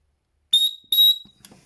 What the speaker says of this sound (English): I'm trying to train her to the whistle and to the clicker. And the whistle's quite loud.